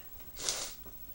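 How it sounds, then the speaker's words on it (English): A single person's sneeze, a short breathy hissing burst with a sharp exhale peak, fairly close and alone with no talking. "I have to sneeze again."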